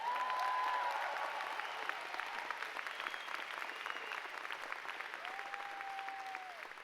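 Graduation audience at Ithaca High School's 2019 ceremony applauds a staff member: a broad, steady wash of clapping from a large crowd, with a few faint whistles rising over it.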